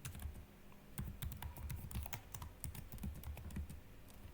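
Fingers tap a computer keyboard while HTML is being written, producing quick, irregular clusters of crisp key clicks close by with short pauses between bursts.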